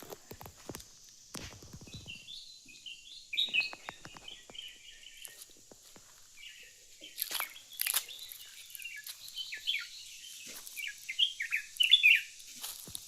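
Birds call and chirp in a quiet rural village, bursts of twittering coming and going over soft footsteps and scattered background knocks.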